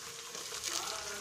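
Onions, green chilies and tomatoes fry in a pan for a Kashmiri-Punjabi curry, giving a soft, steady sizzle that stays close and fairly quiet, with a faint stirring texture.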